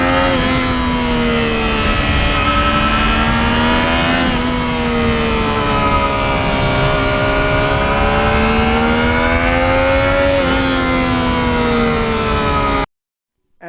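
A 2020 Yamaha MT-09 motorcycle engine pulls hard and loud, its pitch climbing steadily and dropping sharply twice as the quick shifter snaps through gears, a continuous close roar with no voices.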